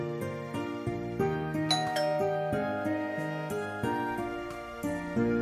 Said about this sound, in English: As I tap the end call button, the doorbell rings.